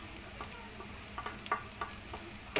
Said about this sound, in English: Now, we have to throw our garlic